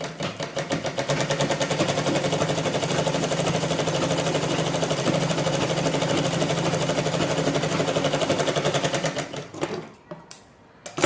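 Sewing machine stitching a forex blouse, a fast even mechanical chatter running steadily for several seconds before stopping, followed by a few brief handling clicks.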